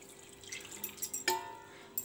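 Boiled chowmein noodles are strained and their water drains away, giving scattered drips and light splashes with a few sharper clinks, fairly quiet and intermittent, with no voices.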